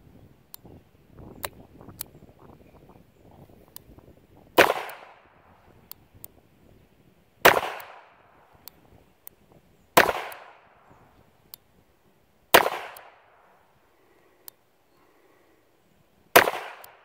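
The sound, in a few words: Smith & Wesson 43C .22 LR J-frame revolver shots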